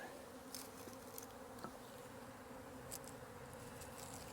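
A steady, low buzzing hum of many honey bees at a hive, faint and continuous throughout, with no voices.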